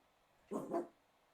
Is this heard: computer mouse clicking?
no